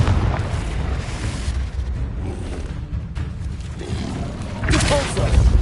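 A Confringo spell cast in Hogwarts Legacy gives off loud, dense booming blasts: a steady rumble of explosive bursts that runs throughout, with a fresh, sharper impact near the end.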